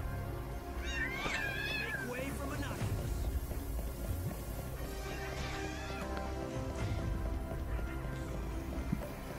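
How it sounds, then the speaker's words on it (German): Wavering, cat-like meows and yowls from creatures in Lightning Returns: Final Fantasy XIII rise over a dense game soundtrack, calling out a few times while a person talks over them. "hier kommen hier wieder diese Felix-Katzen-Viechers. Ja, ich höre sie schon."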